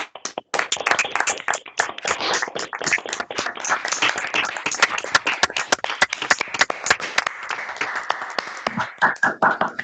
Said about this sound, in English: I think it deserves a final round of applause to everyone who pitched today and the winners.